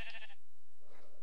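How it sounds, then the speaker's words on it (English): A sheep bleats in the Minecraft video game, two short nasal bleats, one at the start and one near the end, over a steady background hum. "Get off, you stupid sheep."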